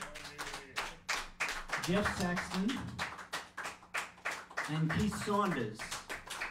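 Applause for a jazz rhythm section follows a spoken introduction of the players: sharp, distinct handclaps from a smallish audience, scattered and uneven, heard under and between a voice.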